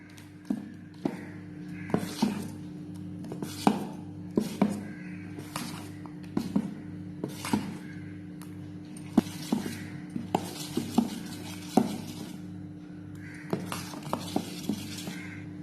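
Ridge gourd paste is mixed into dosa batter in a bowl, with irregular light clinks and taps of a spoon against the vessel over a faint steady hum.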